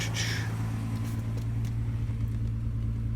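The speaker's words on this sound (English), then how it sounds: "I haven't run my motor in a while, so I'm letting it warm up to speed very slowly" Car engine warming up at a slow, steady idle of about 1200 RPM, a low constant hum with faint ticking and light clatter, close, with a brief hiss near the start and no voices.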